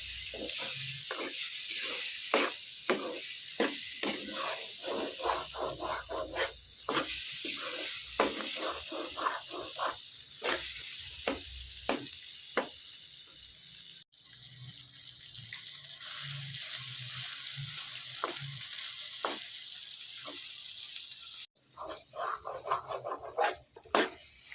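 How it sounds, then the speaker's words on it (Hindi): Mutton liver with ginger paste and green chillies stir-fried in a pan: a continuous hiss of sizzling with repeated rhythmic scraping strokes from a spoon, close and steady, with two brief breaks. "अब सब चीज़ें मिक्स करके भूनते हैं"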